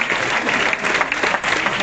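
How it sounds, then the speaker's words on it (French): An audience at a football tournament draw event breaks into loud, dense applause, with a continuous roar of many clapping hands throughout. "Et on va vous applaudir à nouveau très très fort."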